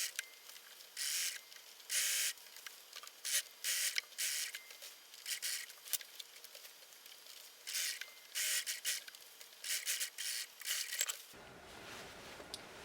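A sewing machine stitches a sleeve slowly in short bursts of quiet mechanical clatter separated by pauses, faint and close, with a soft rustle near the end.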